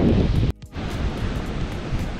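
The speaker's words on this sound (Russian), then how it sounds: "Шторм небольшой, так, небольшой накатик идет, но зрелище прикольное." Small storm waves roll onto the Koktebel shore of the Black Sea, a loud surging wash mixed with wind buffeting, briefly dipping after a sharp cut before the rumbling surf resumes.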